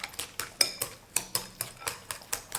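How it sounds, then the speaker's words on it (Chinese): Three eggs with salt and a little pepper are whisked in a bowl, quick rhythmic clinks and scrapes of utensil on the bowl repeating about four times a second, close and clear. "碗中再打入3颗鸡蛋， 加盐，加少许的胡椒粉。 搅拌均匀备用。"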